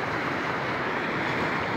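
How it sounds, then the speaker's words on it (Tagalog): Rough sea surf pounding a shore where fishing boats stay beached: a continuous broadband roar of breaking waves with wind buffeting the microphone, close and loud, with no voices. "Hindi naman nakapalaot dahil maalon na ng dagat"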